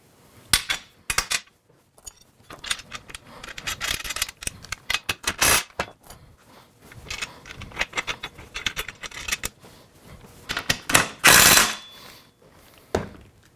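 Metal nuts and bolts are fitted and tightened on a Can-Am trailer space saver rack, giving scattered close clinks, ratcheting clicks and taps in irregular bursts with pauses between.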